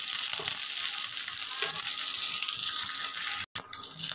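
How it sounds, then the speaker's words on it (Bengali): Garlic and green chillies frying in a little oil in a pan, a constant close crackling sizzle with faint stirring, cut by a brief gap near the end. "রসুন কাঁচামরিচটা একদম লাল করে ভাজতে হবে"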